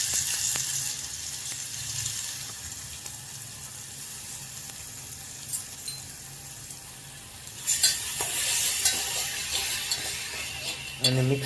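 Garlic and green chili paste frying in hot oil with mustard seeds for Rajwadi bhajiya, a continuous sizzle that swells louder as stirring starts, with scraping and clinks of the spoon in the pan.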